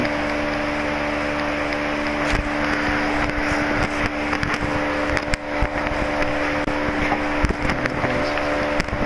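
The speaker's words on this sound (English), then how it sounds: "I hear fireworks going off over there." Distant fireworks near San Antonio on New Year's, scattered muffled booms and pops spread through a steady noisy background.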